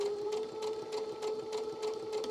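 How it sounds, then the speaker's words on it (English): Sewing machine stitching a diagonal seam through quilt layers for a Lemoyne Star quilt, a steady motor hum with a fast, even needle rhythm running throughout, close and continuous. "and then I'm going to sew, and as long as I keep this dot along this line"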